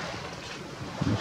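Soft wind noise and gentle water movement at sea, a very light 3-4 knot wind, a brief low steady rush with a slight gust at the end.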